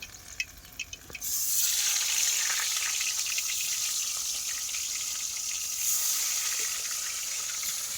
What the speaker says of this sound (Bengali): অতিরিক্ত তেল দিয়ে মাছ ভাজা যাচ্ছে না, ছটপট ছটপট করছে